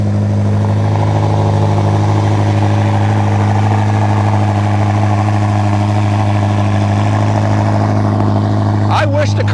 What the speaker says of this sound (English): We'll get a cold start because that's when the car sounds the best